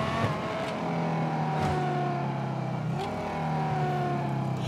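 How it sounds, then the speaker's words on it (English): A steady, loud car engine in GTA Online drones throughout with a few gear shifts and pitch changes, sounding like a racing car cruising along. "can we just all agree that the sound of this car is the greatest sound in the game?"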